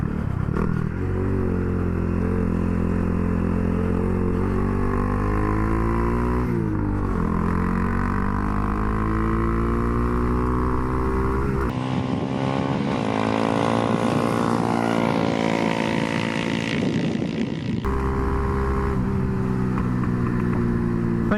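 A Honda Grom motorcycle fitted with a 402 Innovations carbon fiber exhaust runs along a straightaway, its loud buzzing engine climbing through the gears with sharp shifts. The sound stays close and constant throughout.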